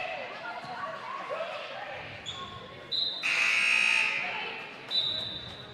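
A loud electronic buzzer blares for about a second at a college women's basketball game in a gym, with a shorter blast after it, amid ball bounces, crowd noise and courtside commentary.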